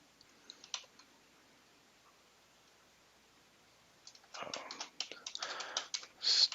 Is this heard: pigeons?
no